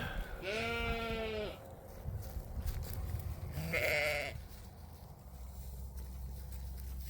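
Goats and sheep on a farm bleating, two loud close wavering bleats a few seconds apart over a low background rumble.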